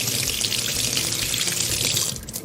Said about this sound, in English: Now we'll take a couple of limes. I'm going to rinse them off first.